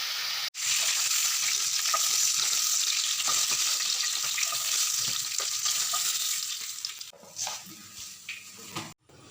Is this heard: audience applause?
no